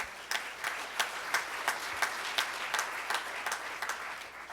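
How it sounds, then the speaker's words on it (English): Applause at a Rotary Club meeting, a steady patter of many hands with some regular sharper claps standing out, moderately distant and unbroken. "Let's give them a big round of applause."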